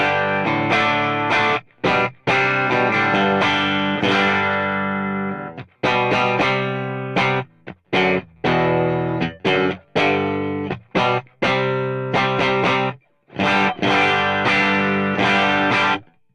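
Electric guitar played through an amp with an RC Booster, fairly dry with a touch of reverb and slapback switched off, ringing chords and single notes in short phrases separated by brief silences, clear and close.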